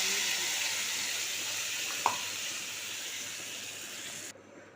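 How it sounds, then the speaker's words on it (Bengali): Cumin seeds and spice paste sizzle in hot oil in a pan, a steady bright hiss holding throughout with one small pop midway, fairly close, then cutting off abruptly near the end. "এবার একটু জিরে ফড়ন দিয়ে দিলাম"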